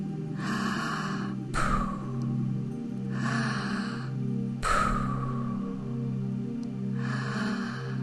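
Deep, audible breaths during a slow yin yoga session, two strong exhales standing out against a steady low drone of background music, with softer breathing in between.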